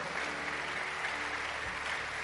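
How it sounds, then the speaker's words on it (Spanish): Steady applause from a church congregation, a dense even patter of clapping with no voices. "Aplauda fuerte para él si lo está haciendo."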